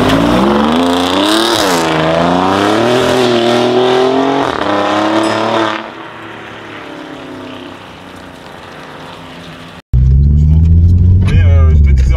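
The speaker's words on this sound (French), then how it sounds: "la sonorité du moteur est super belle et ça marche bien" An Alfa Romeo MiTo Quadrifoglio sports car engine revs loudly, rising and falling in pitch, then drops to a low idle before roaring up again.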